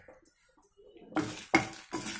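Spices and dried red chillies dry-roasting in a pan sound as a few soft clinks of a spoon and then three louder stirring scrapes against the metal, close and clear, with no speech.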